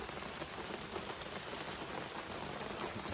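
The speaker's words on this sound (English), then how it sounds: "We woke up with a little rain on the lake." Light rain falls on a lake at sunrise, a continuous soft hiss of drops hitting the water, steady and even throughout with no voices.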